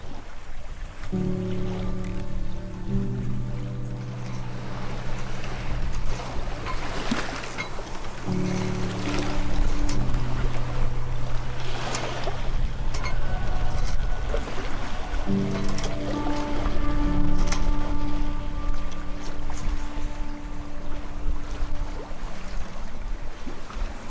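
A sailboat is underway, heading out to sea toward the Azores after refuelling. Water rushes steadily past the hull for the whole stretch, with a low tonal hum underneath.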